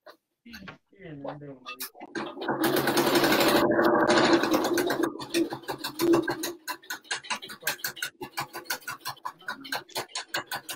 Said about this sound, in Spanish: Entonces voy a ir cosiendo todo esto para luego voltear.